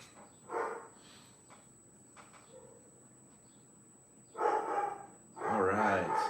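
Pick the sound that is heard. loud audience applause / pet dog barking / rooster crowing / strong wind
pet dog barking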